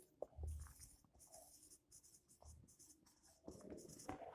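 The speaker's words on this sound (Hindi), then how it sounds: "मैं पहले लिख लेता हूं" Notes being written by hand during a class lecture: faint, soft scratching strokes in short bursts in a quiet room.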